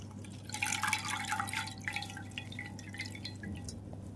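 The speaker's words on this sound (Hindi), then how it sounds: "पानी को ऐसे टपकने देंगे।" Water infused with a tulsi leaf dripping from a soaked, lace-trimmed deity garment left unwrung, a cluster of quick close drops that thins into sparse, irregular plinks over a faint steady hum.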